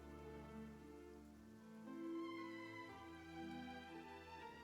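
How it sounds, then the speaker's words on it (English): Steady rain pours down in the video game Genshin Impact, a continuous patter heard beneath sustained musical tones throughout. "Yet today, the downpour arrived on schedule."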